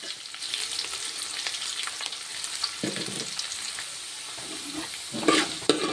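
Sliced onions fry and hiss in a pan with beef for a Kottayam-style beef roast while being stirred, a steady close sizzle with scraping stir strokes and a few louder clatters near the end.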